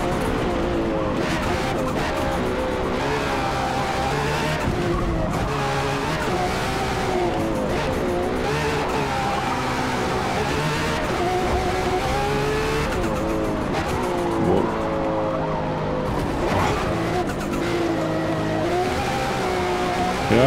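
A Lotus race car howls around Le Mans in Forza Motorsport at very high speed, its engine droning loudly and steadily with shifting pitch and tire noise throughout, and a voice speaks now and then underneath.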